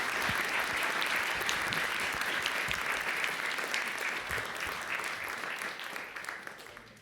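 An audience applauds the Lord Mayor at a conference session, with dense, sustained clapping from a sizable crowd that stays steady, then slowly thins and fades toward the end.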